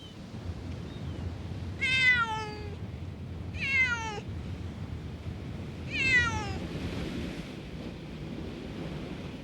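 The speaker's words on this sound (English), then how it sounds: "Leo Grillo has tried for weeks to trap 2 cats living in this jetty" Cats living in a rock jetty near Oxnard, California give three separate descending meows a couple of seconds apart, heard outdoors over a steady wash of ocean surf and wind.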